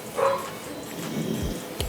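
An American Bully puppy whimpers and yips softly in a few short, high cries, fairly faint and close by, with some low handling noise near the end.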